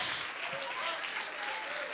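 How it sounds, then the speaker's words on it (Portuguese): A church congregation applauds in a steady, dense wash of clapping during an evangelical Portuguese-language service, with a faint voice carrying under the applause. "Você pode levantar um aplauso aí poderoso ao Senhor ou não?"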